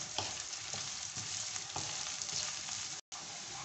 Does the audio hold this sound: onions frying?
yes